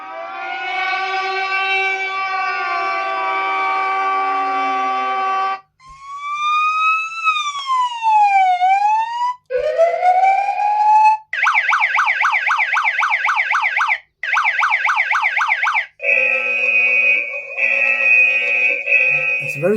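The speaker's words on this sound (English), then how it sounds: "So these are basically sirens. So you can see they're all types of sirens and alarms." A loud electronic police siren from a rugged smartphone's warning simulator app, cycling through several synthetic wailing, sweeping and rapid yelping patterns with brief gaps between them, close and alone.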